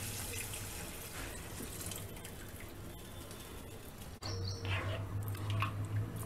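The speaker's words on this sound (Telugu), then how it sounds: "దీంట్లోకే మనం ఇప్పుడు కలిపి పెట్టుకున్న మసాలా వేద్దాం." Liquid masala poured into a pan of frying capsicum and onion for veg Manchurian gravy, a steady sizzling hiss that jumps louder and more bubbly as the liquid hits the hot pan.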